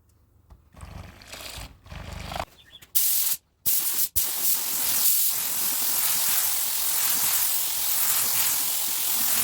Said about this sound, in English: I'm going to go ahead and catch it while it's still wet and just spray the rest of the gun